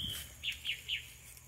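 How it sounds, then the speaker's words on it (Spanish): A bird near an old, long-unused hillside entrance in rural Paraguay gives three short, high chirping calls in an even rhythm, clear and fairly close over a quiet low background hum. "Hay un pájaro que no para de hablar ahí."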